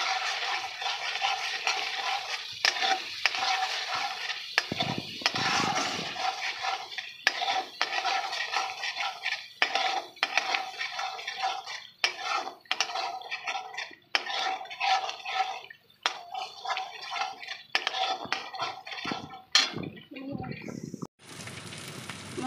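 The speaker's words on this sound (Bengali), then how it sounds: "এবার সব দিয়ে আমি ভালো করে কষে নেব" Spice masala with a little sugar being stir-fried for potol dorma, a spoon clinking and scraping against the pan in an irregular rhythm with a soft sizzle underneath, close and fairly steady throughout.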